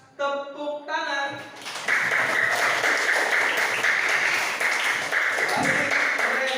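A classroom of students applauds a student group after its presentation on the respiratory system, steady clapping that starts after a short tone and fills the room for several seconds, close and fairly loud.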